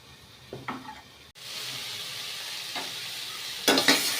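Fish fried in a pan with eggplant: a soft early sizzle, then a sharp cut into a steady hissing fry, with stirring scrapes breaking through toward the end.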